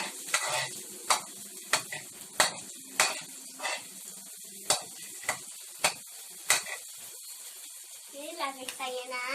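Chopped red onion sautés in a pan under regular stirring, with evenly spaced spatula taps over a soft sizzle before a voice comes in near the end.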